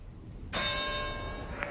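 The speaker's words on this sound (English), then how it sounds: "Joe Louis answered the bell for the 12th round, facing defeat for the first time in his professional career" Boxing ring bell sounding to open the 12th round of a 1936 Joe Louis fight: one sharp metallic clang strikes after a half-second of quiet, its bright tone ringing on and slowly fading to the end.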